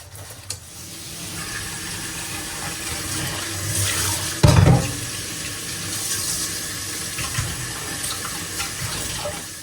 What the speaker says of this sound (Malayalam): മീനൊന്നിനി കഴുകിയെടുക്കണം